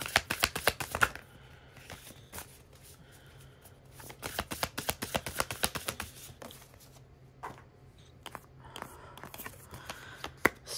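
A deck of oracle cards is shuffled by hand in rapid bursts of crisp riffling and flicking, close and quiet, with short pauses between the runs.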